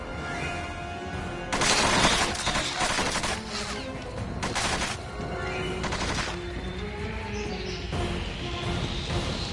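Gunfire in Hitman rattles out as loud automatic bursts and sharp repeated shots, the volleys coming in clusters with short gaps between them.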